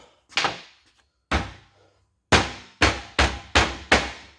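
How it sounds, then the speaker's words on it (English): A wooden hammer taps on an engine main bearing being fitted, giving seven sharp, close knocks: two spaced single blows, then a steady run of five evenly timed taps. "Let's take the wooden hammer and tap it."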